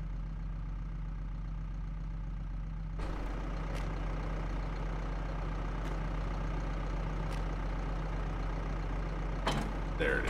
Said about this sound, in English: Pick it up with the other tractor.